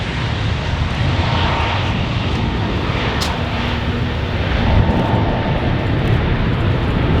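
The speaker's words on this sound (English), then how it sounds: "starting to take off run, and again very quiet indeed. Expecting a steep takeoff, climb and turn." A jet aircraft on its takeoff run and steep climb at Farnborough Airshow gives a continuous loud roar that holds steady throughout, distant but dominant with no talk.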